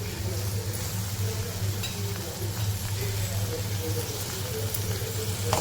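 Onion and tomato sauté in a pan, a steady, even sizzle with soft stirring scrapes, close and continuous, under a low hum with faint background talk.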